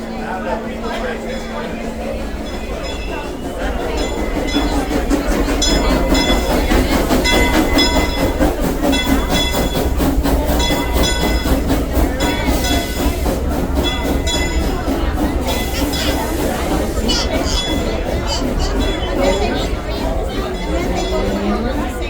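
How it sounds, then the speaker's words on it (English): A theme park train rumbles steadily along the rails with rhythmic clacking, while a festival crowd chatters in the background. "Conductor Zeke, I'll be taking your train out"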